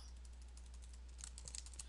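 Computer keyboard typing while entering a new column in an Excel spreadsheet: quick, faint key clicks in a loose rhythm, with a denser burst of keystrokes toward the end, no one talking.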